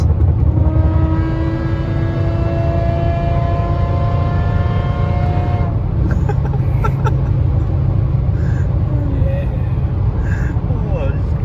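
A Mercedes S600 fitted with an F1-style exhaust drones loudly from inside the cabin, a heavy low roar with rising engine tones that drop off partway through, while people talk over it.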